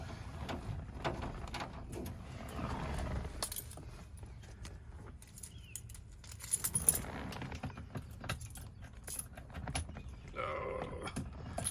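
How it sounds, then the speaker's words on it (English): A ring of keys jangles and clinks close by in irregular bursts, fumbling metallic rattles and taps over a quiet background, beside a Gen2 Ford Raptor EcoBoost truck. "Fumbling with the keys here a moment."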